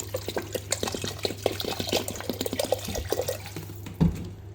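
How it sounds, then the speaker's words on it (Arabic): Room-temperature water is poured into a pot of rice for a chicken breast dish with cooking cream and mushrooms, a steady close splashing and trickling with a low hum beneath and a bump near the end. "منحط مي من حرارة الغرفة لحتى يغمون المي"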